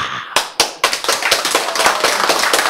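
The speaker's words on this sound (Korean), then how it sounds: "제가 나! 했는데 왜 박수 쳐요?" An audience in a lecture hall breaks into applause, starting with a few sharp separate claps that quickly build into dense, loud clapping from many hands.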